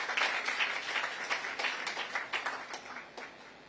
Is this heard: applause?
yes